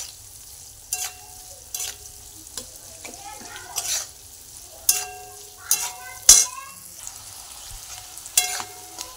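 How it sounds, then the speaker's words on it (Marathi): Diced potato sautéed and stirred in oil in a pan for sabudana khichdi, a steady low sizzle broken by sharp, regular scraping strokes of a spoon against the pan, close and clear with no talking. "परतून घ्यायचा आहे बटाटा"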